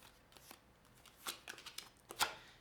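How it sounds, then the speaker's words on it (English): Tarot cards are shuffled by hand in soft, papery riffles and taps, quiet and close, with a few sharper flicks near the end. "One more shuffle."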